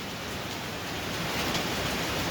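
Rain falls steadily outside during a days-long downpour, a broad, even roar of hiss without distinct drops, fairly close and constant, with no speech.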